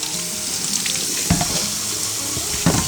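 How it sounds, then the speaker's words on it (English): Water runs steadily from both kitchen taps into a sink while potatoes are washed, a constant close hiss with occasional splashes and clatters as they are moved around. "I gotta turn on both taps because my hot water be getting hot"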